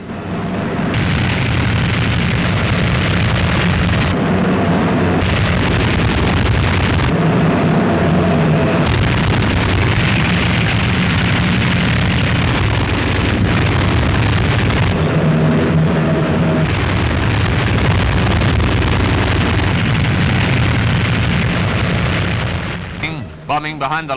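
Heavy explosions from Allied air bombing of military targets, dumps, roads and supply transport in Normandy, 1944, booming and rumbling almost continuously and loudly across the whole stretch while someone narrates over them.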